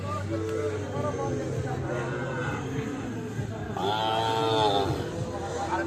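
Sahiwal cattle moo at a livestock market at Ambari haat. A long, loud moo rises over a constant low hum and the babble of a crowd.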